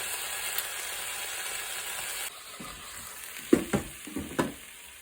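Chicken pieces fry in a pan for a slow-cooker chicken and asparagus dish, with a steady close sizzle that drops away midway. A few sharp scrapes and clinks follow as the pieces are turned over.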